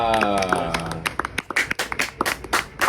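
Several people clap in short, uneven bursts to celebrate a new project, with a voice and a sustained tone at the start before the claps take over.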